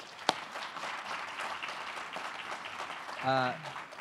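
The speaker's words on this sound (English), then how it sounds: "So let's round of applause." Modest audience applause for three panelists at a climate education event, a soft, even patter of clapping with a sharp knock near the start and a brief voiced sound near the end.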